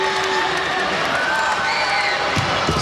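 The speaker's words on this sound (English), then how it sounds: "You hear the applause here from the fans as they cheer for Brent Rosemeyer" Fans fill an arena with dense, continuous applause and cheering during a 2017 men's volleyball match between Hawaii and Pepperdine, a loud, unbroken wash of crowd noise with faint voices mixed in.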